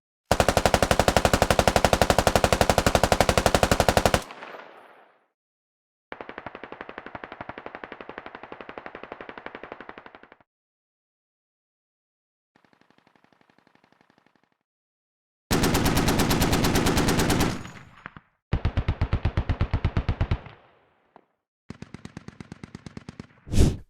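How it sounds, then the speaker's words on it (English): Weapons on a US Army Stryker armored vehicle fire in several separate bursts of machine-gun fire, each one loud and rapid with short silent gaps between them, some bursts longer and some fainter. "let's take a listen to each weapon on the Stryker variants"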